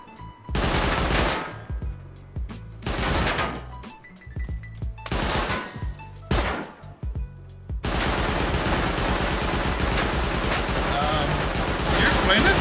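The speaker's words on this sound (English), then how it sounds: "You just double barrel me completely in my face" Double-barrel shotgun blasts in Rust, loud and close, fired in a rough rhythm of three or four heavy booms, then a dense burst of continuous fire and clatter with voices underneath.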